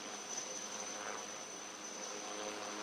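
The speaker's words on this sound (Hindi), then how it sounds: "चेतक हेलीकॉप्टर को उड़ा रहे हैं" Indian Navy Chetak and ALH helicopters fly over the Navy Day display at Visakhapatnam, a faint, steady distant rotor-and-engine drone with no voices.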